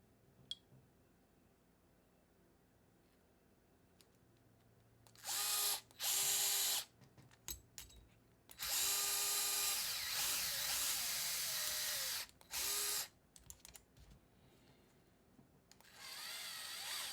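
A power driver whirs in several short bursts, screwing link mounts into plastic on an SCX10-3 RC crawler, loud and close with quiet handling noises between runs.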